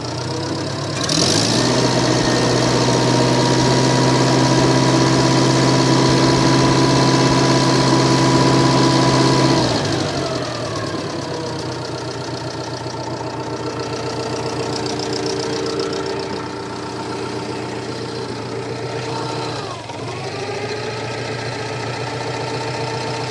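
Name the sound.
Massey Ferguson MF711 skid loader engine running and revving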